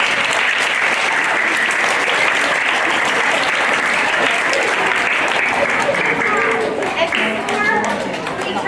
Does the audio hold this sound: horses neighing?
no